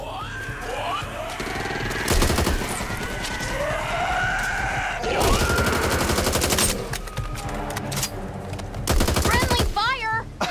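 Gunfire rattles in Back 4 Blood: sustained bursts of automatic fire come in dense volleys, with voices shouting in the middle and creature shrieks near the end.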